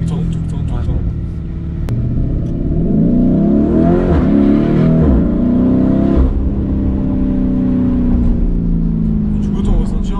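A Lamborghini Urus SUV engine revs and accelerates loudly from inside the cabin, its tone rising and falling, with voices talking over it and a few sharp exhaust pops.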